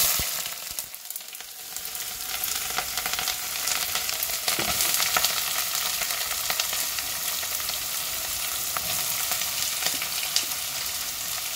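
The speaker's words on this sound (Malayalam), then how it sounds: "ഇതിൽ ഓയിൽ ചൂടായി തന്നിട്ടുണ്ട്. നമുക്ക് മസാല ഉണ്ടാക്കുന്നതിന് ഞാൻ വേണ്ടിയിട്ട് സവാള ഇട്ടെടുക്കും." Sliced onions (five of them) frying in hot oil for a fish biryani masala, a loud, steady broadband sizzle with occasional stirring scrapes, continuous and close with no talking.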